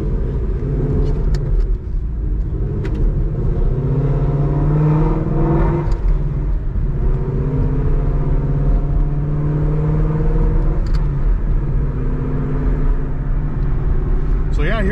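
A 5.0 Mustang fitted with Kooks headers and a Corsa Xtreme exhaust rumbles and revs, a deep continuous exhaust drone with rising and falling pitch, loud and close, with a voice talking over it.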